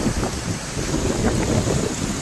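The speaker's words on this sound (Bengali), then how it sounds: "প্রচুর হাওয়া দিচ্ছে বন্ধুরা, প্রচুর হাওয়া" Strong wind gusts through a rainstorm, buffeting the microphone in a loud, rough, rumbling roar that surges and dips over a couple of seconds, with no voices heard.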